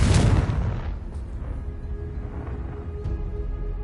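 A Confringo fire spell explodes in the Hogwarts Legacy video game: one loud, close blast at the start that fades into a long, low rumbling tail.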